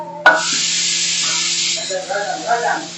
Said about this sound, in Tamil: இப்போ தக்காளி அதோட கருவேப்பிலையும் போட்டுக்குங்க